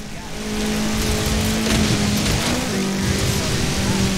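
A Ford Focus race car engine in the racing video game Forza Horizon 4 drones loudly and steadily, its pitch holding and shifting slightly, with tire noise mixed in and no talk.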